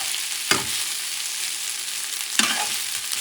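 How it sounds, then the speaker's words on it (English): Pork ribs with a little fat and oil are stirred in a pot under a steady close sizzle, with two distinct scraping strokes of the spoon a couple of seconds apart. "And I'm going to mix the meat, the flavors, the little fat and oil."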